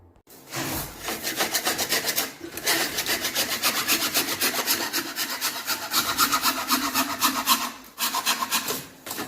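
Rapid back-and-forth rasping of a hacksaw blade cutting through wood, steady and close, with brief pauses between runs of strokes.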